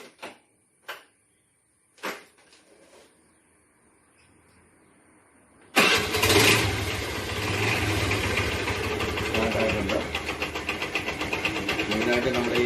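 A Honda Activa scooter is kicked into life during a home repair and its engine immediately settles into a steady, close idle that runs on continuously, after a few sharp clicks and knocks of handling.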